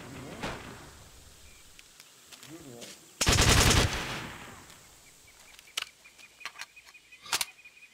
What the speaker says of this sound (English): I'm scroll wheel firing and I'm just shooting real fast